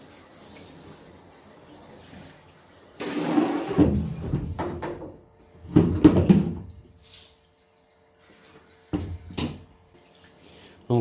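Water mixed with white mineral coolant oil gushes from a hose on a CNC milling machine setup in bursts, splashing and trickling between quiet pauses, faint and close.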